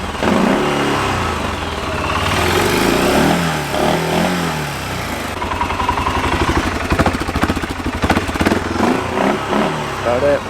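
An Arctic Cat Alterra ATV engine runs on a ride, loud and close, with a steady mid-pitched drone that rises and revs in bursts in the second half. Voices and other noise blend in.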